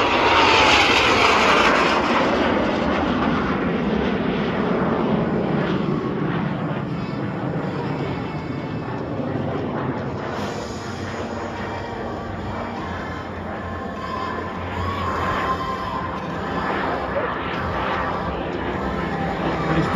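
Jet engine of an L-39 Delfín aircraft at an air show, a loud, sustained roar and whine that stays close and steady throughout, with a faint voice underneath.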